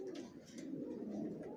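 Racer pigeons cooing in a loft, a steady low murmur of overlapping coos from several birds close by, continuous throughout with no talking.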